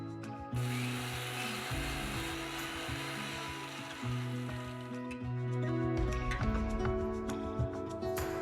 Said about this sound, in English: The poha is ground into a powder.